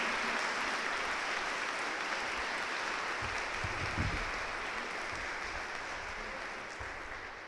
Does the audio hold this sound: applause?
yes